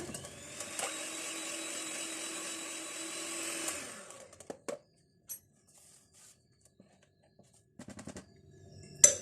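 An electric mixer beating butter, sugar and eggs for a butter cake batter, whirring steadily for about four seconds before winding down, followed by scattered clicks and taps of the bowl and beaters.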